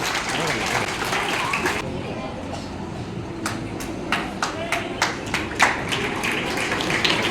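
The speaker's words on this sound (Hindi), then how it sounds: "श्रीमान जी के लिए जोरदार तालियों से स्वागत कीजिए।" A school audience welcomes the principal at a student awards event, a broad burst of applause at first, then thinning to scattered individual claps spaced through the rest, with a voice speaking over them.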